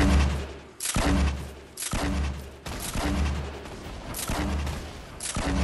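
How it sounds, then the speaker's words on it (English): Grenade launcher fire in Fortnite Battle Royale, a series of heavy booming launches at a steady rhythm, each with a deep low thump and a bright crack, loud and close throughout. "I'm gonna grenade launcher it."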